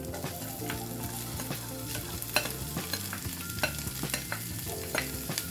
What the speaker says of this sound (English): we're going to saute our veggies until they're softened